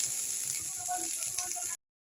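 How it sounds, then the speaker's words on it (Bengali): Cauliflower florets fry in a hot kadai until browned for a Bengali vegetable dal. A steady, close sizzle runs for under two seconds and then cuts off abruptly. "ফুলকপিগুলো একটু লাল করে ভেজে নেব।"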